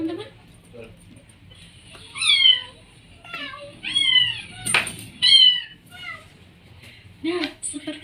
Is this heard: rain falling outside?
no